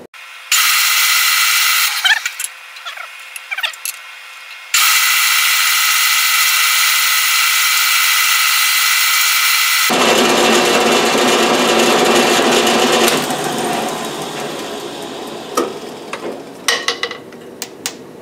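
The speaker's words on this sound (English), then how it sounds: "I've set the collar on my drill press so that I can only drill that deep" A drill press runs steadily with a high whirring grind drilling metal, pausing briefly, then a harsher, rougher cutting sound takes over before trailing off with a few clicks.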